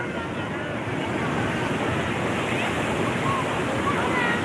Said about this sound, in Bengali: মানে ঢেউটা বিভৎসভাবে ঢেউটা আসছে